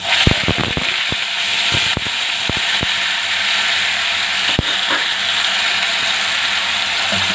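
Ground onion paste fries in hot oil with fenugreek seeds, giving a steady loud sizzle broken by a cluster of sharp pops and spits early on and a few scattered crackles later.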